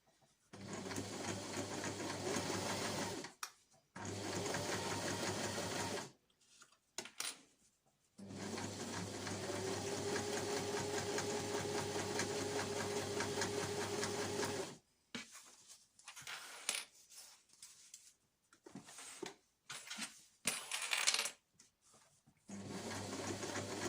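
Sewing machine stitching fabric for a reusable snack bag, running in long steady bursts of rapid mechanical whirring separated by short pauses, with shorter stop-start runs near the end; close and clear, with no talking.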